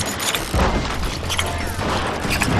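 Gunfire and booming blasts in the Western shooter game Call of Juarez: Gunslinger, loud and dense, with sharp repeated cracks and thuds layered over a continuous noisy battle backdrop.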